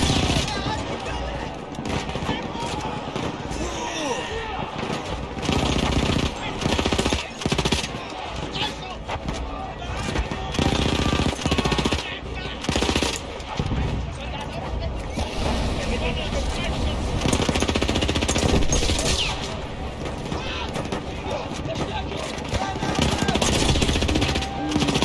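Rapid, dense machine gun fire in the World War I video game Battlefield 1 runs almost continuously in loud bursts amid engine rumble and battle noise, with a voice speaking over it.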